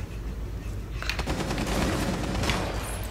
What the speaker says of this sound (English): Oh, they're shooting in!